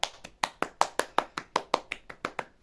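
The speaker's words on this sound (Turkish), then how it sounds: "Onu da bir alkışlayacağım." A single person claps their hands about fourteen times in a steady, fairly quick rhythm, each clap sharp and close, with no other sound between them.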